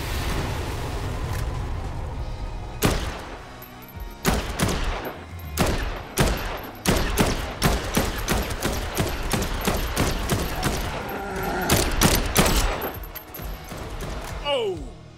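Dead Island 2 gunfire in co-op play rings out in loud, sharp bursts of rapid shots after a quieter opening, with clustered volleys and brief gaps between them.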